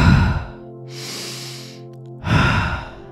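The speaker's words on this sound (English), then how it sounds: "The air is coming in through the nose, circling your body and coming back up and out." A deep breathwork exhale during a guided self-forgiveness session: a long, steady airy rush of breath through the middle of the clip, set between a guide's spoken instructions at the start and end.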